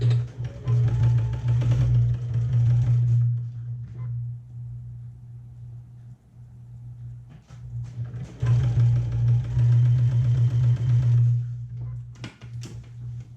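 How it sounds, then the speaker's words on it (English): A sewing machine stitches a half-inch seam allowance around a bag in two steady hum-filled bursts of about three seconds each, separated by a quiet pause with light handling noises. "So let's sew with a 1/2 inch seam allowance all around"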